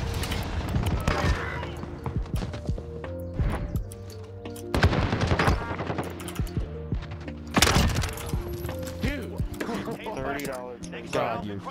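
Rapid video-game gunfire in a team shooter match, bursts of automatic shots and single cracks repeating loudly across the whole stretch, mixed with player voices talking over the action.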